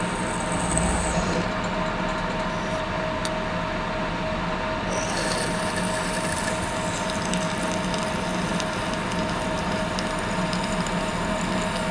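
A milling machine drilling metal runs with a steady, continuous whir and grinding hum, a constant mechanical drone with no pauses.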